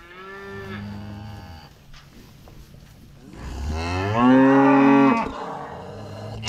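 Cattle at a farm where a cow has a calf, with several loud, drawn-out moos nearby, the longest and loudest near the end, with no talk.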